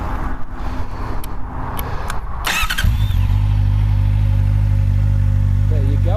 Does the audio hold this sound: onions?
no